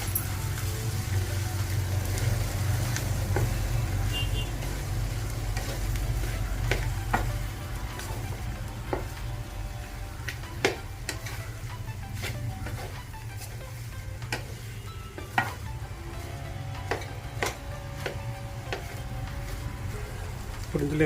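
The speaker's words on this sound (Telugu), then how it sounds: "బొబ్బర్లు, అలాగే ఉడికించి పెట్టుకున్న ఉర్లగడ్డ కూడా వేసేయాలి. వేసిన తర్వాత దీన్ని కొంచెం కలపాలి." A spoon stirs samosa filling of cowpeas and boiled potato in a pan, scraping and tapping repeatedly over a steady, continuous sizzle throughout.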